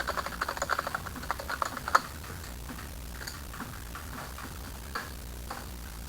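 Keys clack on a computer keyboard during spreadsheet entry: a quick burst of close, crisp taps, then sparse single presses over a quiet room hum.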